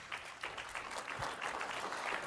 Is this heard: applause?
yes